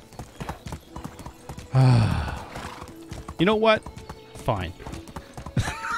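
A horse neighs several times and hooves clip-clop in the video game Medieval Dynasty, loud and close, while someone talks briefly over it.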